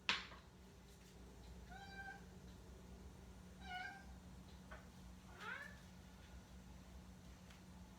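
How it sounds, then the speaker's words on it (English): A cat meows in a home kitchen while breakfast cooks, with three distinct mid-pitched meows spaced a couple of seconds apart over a low steady hum, after a sharp clatter at the start. "I have a cat in the kitchen."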